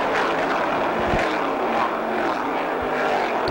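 Stock cars in a 2005 race accelerate together at the green-flag start, a loud continuous engine roar filling the clip without letup.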